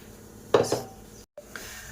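Potatoes drop into a pressure cooker on a home kitchen stove to be boiled, giving a couple of close hollow clunks and scrapes against the metal pot, then a short silence and a faint knock.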